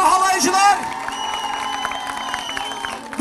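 A festival crowd at the Hürriyet Çamlık Festival in Çarşamba, Samsun, briefly claps and cheers, with whoops and shouting voices mixed into a short burst of lively noise.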